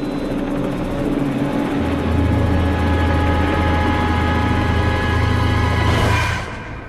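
A helicopter carrying three men over a volcano loses its main rotor just before crashing, heard as a loud, continuous rotor-and-engine drone that holds steady for several seconds and then drops away sharply at the end.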